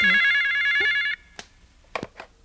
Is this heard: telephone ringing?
yes